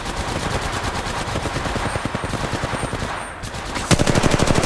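Rapid automatic gunfire from weapons in the battle royale shooter Apex Legends, a dense, loud stream of bursts that briefly thins out before a sharp, heavier volley kicks in near the end.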